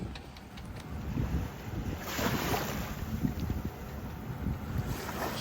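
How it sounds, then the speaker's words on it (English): Steady wind buffets the microphone while small waves wash around an O'Day daysailer sailboat afloat at the Oakland Beach boat ramp, a continuous, fairly close rushing texture with no talking. "By the time I got her in the water, the wind picked up."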